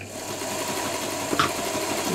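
Singer 201K sewing machine running steadily close up, a fast even mechanical whir with a faint click partway through.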